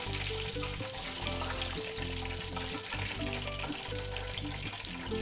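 Chicken pieces deep frying in hot oil for KFC-style crispy fried chicken give a steady, dense sizzle throughout, close and fairly loud, with no talking.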